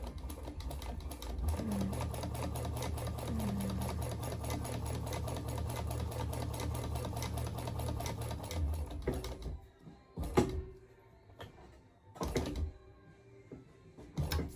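Sewing machine backstitching on a bucket bag, a steady fast mechanical whirr for about nine seconds, then stopping, followed by a few short knocks and handling sounds.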